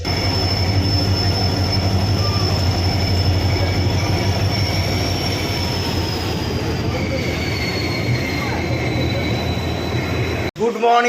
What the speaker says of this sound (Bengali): তো অন টাইমে আমাদের ট্রেন ছাড়ছে।